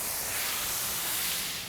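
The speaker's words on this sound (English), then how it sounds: "we'll put a little water down over here. It's going to steam that cheese" Water splashed onto a hot griddle beside burgers bursts into a loud, steady hiss of steam that holds constant and fades slightly at the end, melting the cheese on the patties.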